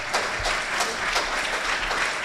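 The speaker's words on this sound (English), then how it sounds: "let's clap for Daryl." Audience at an interschool maths quiz final applauds a young contestant, a soft, distant wash of many hands clapping, brief and steady.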